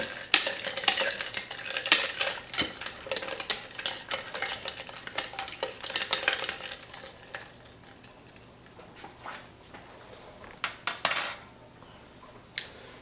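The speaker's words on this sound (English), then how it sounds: "Then I'll give it another stir, let that settle and mix in pretty well." A spoon clinks and swirls against a sangria pitcher in a burst of rapid stirring strokes, then the sound fades to quiet with a few last taps, fairly soft and with no talking.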